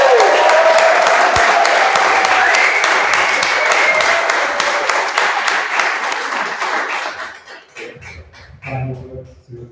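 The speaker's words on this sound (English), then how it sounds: "a huge round of applause for the 19th batch of family" An audience applauds the graduating web development batch at a Lisbon demo day, a dense burst of clapping that holds strong for several seconds, then thins out and fades, with a few scattered claps and voices near the end.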